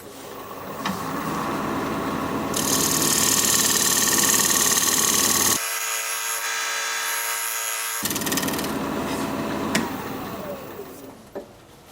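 Wood turning tools being sharpened on a grinder, a steady motor whine with bright grinding hiss rising in the middle, pausing briefly, then resuming before spinning down at the end.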